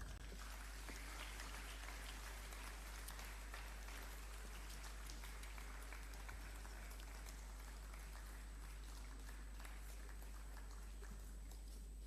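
Dense, continuous applause from a large audience at a graduation ceremony, a steady wash of clapping that holds evenly throughout without voices.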